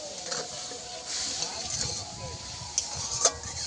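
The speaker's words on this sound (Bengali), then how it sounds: "মশলা ভেজে নিয়েছিলাম যে কড়াটা ভালো করে গরম হয়ে গেছে। ওই কড়ার মধ্যে দিয়ে দেব যে আমটা রেখে দিয়েছিলাম।" Raw mango goes into a hot kadai with sugar and fried spices and sizzles, a steady bright hiss running throughout with soft stirring knocks and a couple of small clinks near the end.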